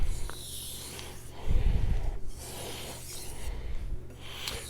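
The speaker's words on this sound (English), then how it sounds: "I'm going to do some edge leading strokes" A knife's edge is drawn in edge-leading strokes across a Japanese natural whetstone, giving soft, close rasping rubs in a few slow repeated passes.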